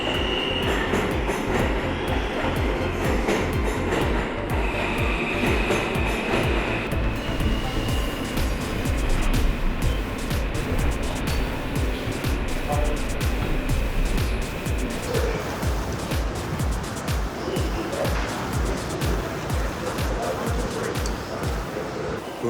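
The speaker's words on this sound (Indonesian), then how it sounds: "Suasana di stasiun ini sibuk banget." A busy New York train station fills the space with a constant dense roar of rail traffic, rumbling trains and crowd noise. Distant voices and scattered clatter are mixed in throughout.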